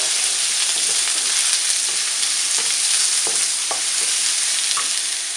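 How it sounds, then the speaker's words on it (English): Chopped onion frying over a medium flame in a pan of hot oil and whole spices for prawn pulao, a steady close sizzle with occasional soft clicks and stirring sounds, with no talking. "I will add the chopped onion and I will fry it for about 3 minutes on medium flame."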